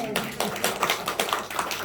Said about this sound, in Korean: 우리가 이미 천국에 갔다 생각하고 서로 축하의 박수를 칩시다